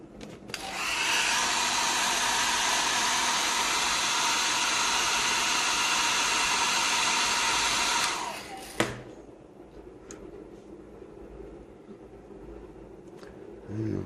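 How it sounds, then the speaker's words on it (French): Hair dryer blowing steadily and loudly for about eight seconds, a dense continuous whoosh, then abruptly switched off, leaving quiet room sound with a few small clicks. "je vais juste sortir du champ pour passer le sèche-cheveux"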